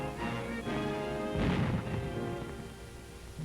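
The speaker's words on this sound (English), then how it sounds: "By fierce artillery fire, Dutch batteries are still trying to destroy the bridges." Dutch artillery batteries fire at bridges in 1944 wartime footage, heard as a dense, muffled rumble with a heavier blast near the middle, thick and distant rather than crisp.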